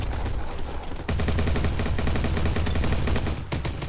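AK rifle fire in the Roblox game Bad Business, dense rapid gunshots and bursts ringing out loudly through nearly the whole clip after a brief quieter opening.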